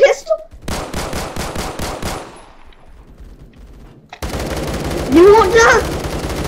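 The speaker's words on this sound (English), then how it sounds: "Oh, I love using machine guns in games." Rapid machine gun bursts ring out in a video game, loud and close, with a pause before another sustained volley; a voice shouts briefly over the fire.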